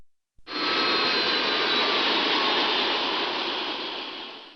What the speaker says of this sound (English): Let's shut down the left engine.